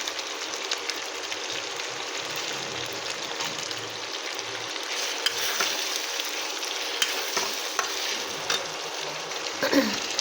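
Chicken korma frying with freshly added green chillies, stirred in a pan: a continuous close sizzle with repeated scraping spatula strokes throughout, no voices.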